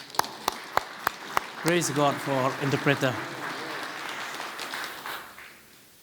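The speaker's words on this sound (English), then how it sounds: "Let's give a clap." A church congregation gives a short round of clapping: a few separate, sharp claps at first, then a sermon interpreter speaks over scattered clapping that fades out.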